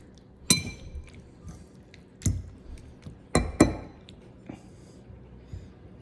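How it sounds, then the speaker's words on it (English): Noodles, meatballs, sour cream and sauce for beef stroganoff are stirred in a pan: a few sharp clinks of a utensil against cookware, with soft squishy mixing sounds between them. "I'm just giving that all kind of a stir and a mix here"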